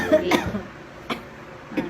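Three short coughs spaced apart, fairly close and sharp, with quiet pauses between them.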